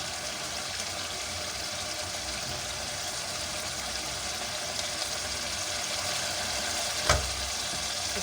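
Beef sizzles as it roasts in a pan, a soft continuous hiss and crackle at moderate distance, with one sharp clink near the end and no talking.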